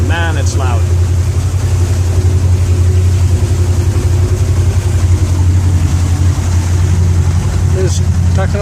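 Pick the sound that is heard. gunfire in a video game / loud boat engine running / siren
loud boat engine running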